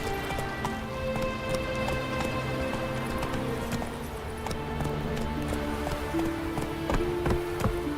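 Roach, the horse in The Witcher 3: Wild Hunt, gallops with steady, rapid clip-clop hoofbeats, close and continuous over a bed of ambient game music.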